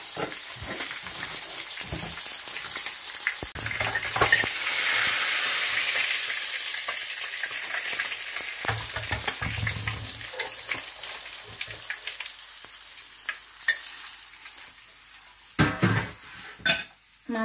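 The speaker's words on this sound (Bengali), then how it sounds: "মাছ ভাজি হয়ে গেছে" Fish frying in oil in a pan makes a soft hiss, with many clattering knocks of utensils and cookware scattered throughout and a few louder bangs near the end.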